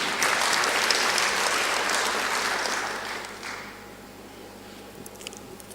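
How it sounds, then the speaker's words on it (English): A conference audience claps in a full round of applause that holds strong for a few seconds, then thins and fades into scattered claps and room noise. "Can't we clap for that, colleagues?"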